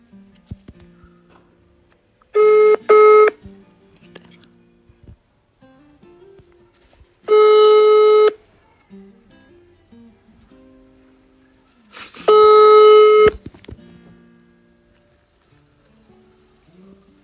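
A phone call rings out through a handset, three evenly spaced tone bursts roughly five seconds apart, each a clear buzzy double beep over quiet room noise with faint movement between rings.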